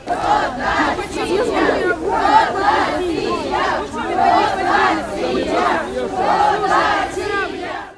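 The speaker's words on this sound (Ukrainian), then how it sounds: "Мітингувальники при цьому вигукували свої вимоги." Protesters at a street rally chant their demands in loud rhythmic unison, repeated shouted phrases rising and falling close by over several seconds.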